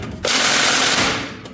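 A DeWalt impact wrench hammers at the alternator bolts of a 2008 Ford F350 in one loud, close, rattling burst lasting about a second before winding down.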